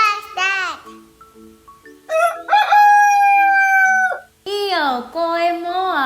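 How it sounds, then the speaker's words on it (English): A rooster crows loudly with drawn-out, tonal cock-a-doodle-doo calls, separated by short gaps with faint sustained tones. "It's a chicken."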